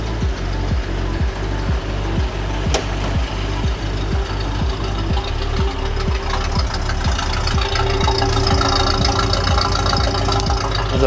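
An engine that has just started sits idling to build oil pressure. It runs with a steady, loud, rhythmic low thumping throughout, close up, with no talking.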